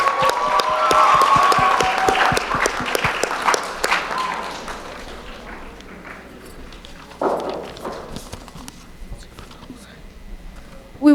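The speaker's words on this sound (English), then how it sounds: "Give a round of applause to Sabrine Abdi" Audience applause at an eighth grade graduation ceremony, a burst of dense clapping that thins out into scattered claps and room murmur, with a few shuffling movements near the end.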